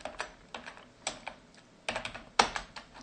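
Keystrokes on a computer keyboard while entering a bash command, a handful of distinct, close-up key clicks spaced irregularly with a couple of quick double taps.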